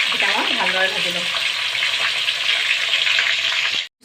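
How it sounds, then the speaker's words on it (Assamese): Chicken pakoras frying in hot oil, with a close, steady crackling sizzle and some stirring, cut off abruptly just before the end. "এইকেইটা মই ভালদৰে ভাজি লওঁ"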